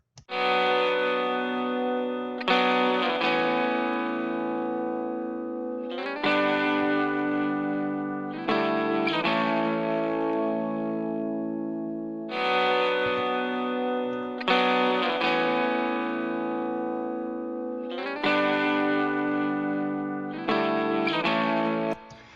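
A sustained electric guitar with layered effects plays ringing chords in repeated phrases, shimmering with echo and chorus, with no voices.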